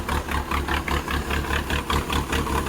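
Case 450 dozer diesel engine running up close, a loud steady idle with a rhythmic pulsing throb and no talk over it.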